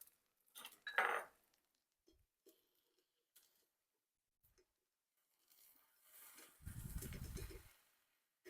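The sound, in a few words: flipping a turkey pepperoni quesadilla in a pan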